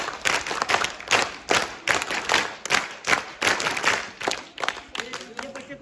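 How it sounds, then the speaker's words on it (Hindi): An audience at an Uttarakhand folk culture day celebration claps for a girl's performance, in loud, sustained applause with strong rhythmic surges throughout, and a faint voice joins near the end. "ताली शुरू कर"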